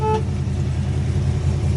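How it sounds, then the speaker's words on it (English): A 1970 Dodge Super Bee gives one very short toot of its horn right at the start, then a steady, low engine rumble carries on at close range. "Got horn"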